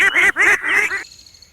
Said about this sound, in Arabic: بطة صغيرة.